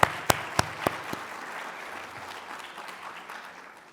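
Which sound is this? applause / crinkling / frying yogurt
applause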